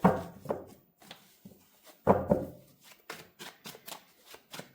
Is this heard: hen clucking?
no